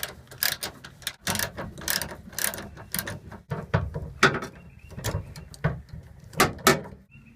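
A ratchet wrench working out 10mm bolts from a Chevrolet Colorado tailgate latch, with sharp, close clicking bursts in uneven runs separated by brief pauses, and no talk.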